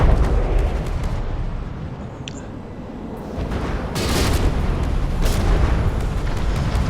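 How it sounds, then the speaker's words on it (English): Torpedo hits exploding against a warship in a naval combat video game, heard as loud booming rumbles that swell and tail off, with a heavier blast arriving partway through. "Torpedoes connecting, light damage."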